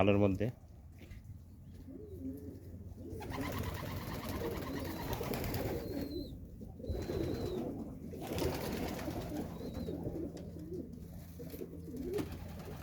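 A loft crowded with pigeons in hot weather fills with continuous, overlapping soft cooing from many birds, steady and close.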